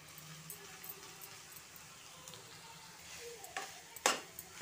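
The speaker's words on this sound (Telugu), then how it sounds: "ఈ రైస్ మొత్తానికి పట్టేటట్లుగా తిప్పుకోవాలి" Mint rice being stirred in a pan, faint soft scraping with a few scattered metallic clinks, growing a little louder near the end.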